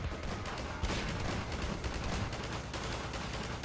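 Rapid, continuous bursts of gunfire from the Garry's Mod zombie survival video game, dense and fairly quiet, with no voices over it.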